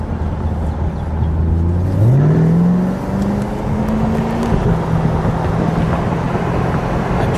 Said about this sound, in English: Driving it in sport mode, so you're getting a little bit additional engine noise.